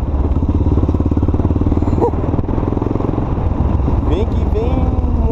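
A Yamaha XT600E motorcycle rides over a speed bump, its single-cylinder engine thumping loud and close in a rapid steady pulse, with a brief clatter as it crosses and wind noise throughout.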